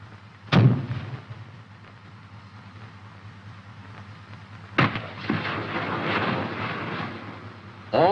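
Rocket launchers on an M551 Sheridan light tank fire a full salvo of eight, heard as a sharp blast near the start, then a second loud burst with crackling rumble and a final blast at the end.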